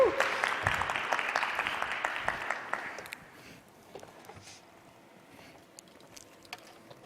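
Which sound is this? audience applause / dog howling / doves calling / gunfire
audience applause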